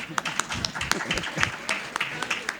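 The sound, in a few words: applause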